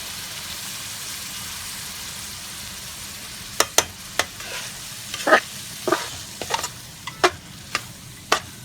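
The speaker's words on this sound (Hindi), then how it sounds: "बस लो मीडियम फ्लेम पे आपने दाल को अच्छे तरीके से फ्राई कर लेना है" Chana dal frying with spices on low-medium flame, a continuous hiss of oil under repeated sharp spoon strokes and scrapes against the pan, loud and close, starting midway and growing more frequent.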